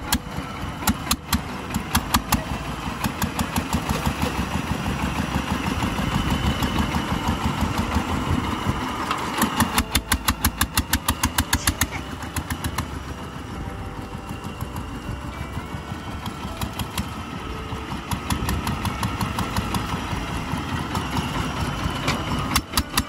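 A tractor engine starts and settles into a steady idle on a Philippine rice farm, a rough rhythmic chugging with clattering knocks continuing loudly throughout, no talking.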